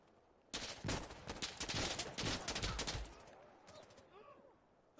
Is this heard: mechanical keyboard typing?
no